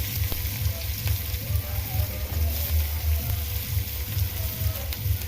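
Onions and chillies sizzle steadily in hot oil in a pan, with a continuous close frying hiss and low bubbling, no voices.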